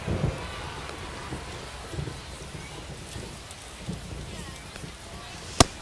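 Rain falling during a Travelers at Rockhounds baseball game in MLB The Show 25, a steady hiss of rainfall beneath a commentator's voice, ending with one sharp crack.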